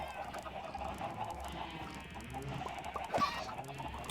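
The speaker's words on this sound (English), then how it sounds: "where's that other chicken? Chicken!" A Minecraft chicken clucks a few times amid steady game background sound, with a sharper cluck standing out near the end, moderately loud and with no talk.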